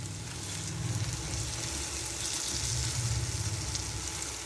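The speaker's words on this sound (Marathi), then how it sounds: "अशीच दुसरी बाजू पण फ्राय करून घ्यायची." Stuffed pomfret fish frying in hot oil in a pan, Malvani style, giving a steady, close, dense sizzle with soft bubbling throughout.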